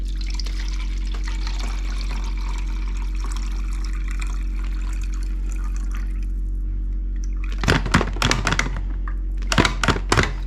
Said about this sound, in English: you can hear the ice inside